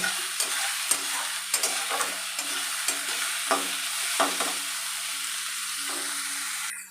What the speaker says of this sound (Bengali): এবার আমি পেঁয়াজটাকেও একদম লাল লাল করে ভেজে নেব।